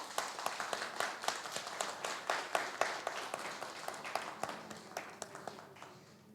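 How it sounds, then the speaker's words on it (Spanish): Audience at a panel discussion on magistrates' trial juries breaking into strong applause, a steady patter of many hands with sharp individual claps standing out, gradually thinning toward the end. "un aplauso fuerte para eso"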